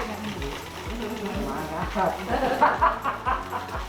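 An electric mixer whirs steadily while beating thickening organic soap batter at a workshop, its motor pulsing in a rhythmic, repeating pattern with voices talking over it.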